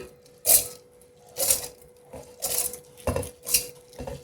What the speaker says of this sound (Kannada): ಇವಾಗ ನಾನು ಅಕ್ಕಿನ ಮಿಕ್ಸಿ ಜಾರ್ಗೆ ಹಾಕ್ಕೊತಾ ಇದ್ದೀನಿ